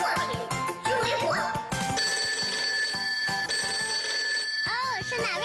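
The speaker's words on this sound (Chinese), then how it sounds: "是哪位小朋友给我们打来了电话呢" A telephone bell rings in a Chinese children's television show, its bright repeated tones sounding over a busy mix of music and other sounds.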